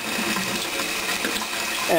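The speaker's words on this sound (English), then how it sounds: "Okay, so now what I'm doing is I'm rinsing" Hot water runs steadily over cooked ground beef in a strainer, a continuous close splashing rush with a brief tonal squeak near the end.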